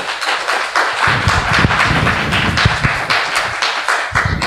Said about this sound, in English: please give a big round of applause to moderator and also speaker